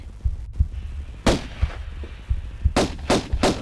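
Pistol shots in the Tomb Raider video game, Unfinished Business expansion, Atlantean level: sharp broadband cracks, one single and then a quick rhythmic run of three, over a low thumping game background.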